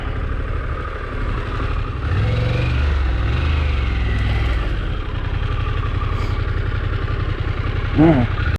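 A Harley-Davidson Pan America motorcycle engine drones loud and steady as it runs up toward a gate on a rough track, with the rumble briefly swelling near the end.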